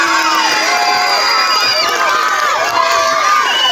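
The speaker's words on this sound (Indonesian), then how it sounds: "Mari kita tepuk tangan sekali lagi untuk teman-teman kita yang sudah juara" Children cheer and shout together in a loud, continuous burst for the winners of a scout troop competition, with high excited voices layered over each other throughout and no clear breaks.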